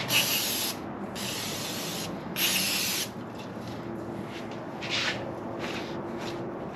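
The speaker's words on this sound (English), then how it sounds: "I'm actually just going to brake clean this surface" Brake cleaner hisses in three strong spray bursts onto an engine block surface on a 6.0 LS build, followed by softer rubbing and wiping.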